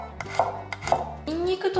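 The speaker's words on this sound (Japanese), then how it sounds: "これをね、薄くこう輪切りにしていきます" A knife slicing three peeled garlic cloves into thin rounds on a cutting board, a few close, crisp taps and thuds in quick succession, followed by a brief scraping sound.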